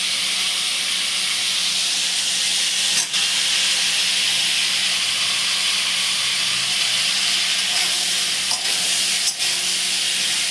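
Chopped onions, tomatoes and slit green chillies fry in a pan with chicken keema, giving a loud, continuous sizzling hiss that runs steadily with no talking.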